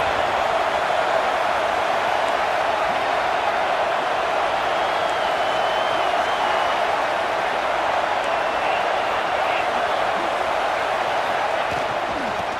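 Steady stadium crowd roar from a college football video game, Ole Miss against Auburn, a dense unbroken wash of cheering noise at constant level with a commentator talking over it.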